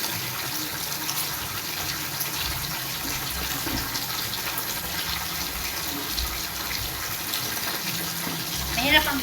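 Running water pours steadily nearby as colored and white clothes are washed by hand, with faint splashing and handling noises under a soft, constant rush.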